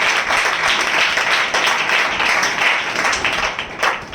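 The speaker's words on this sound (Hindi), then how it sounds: "हम जोरदार तालियों से उनका स्वागत करें।" Audience at a Hindi Christian worship gathering giving loud, dense applause, many hands clapping steadily at close range before easing slightly at the end.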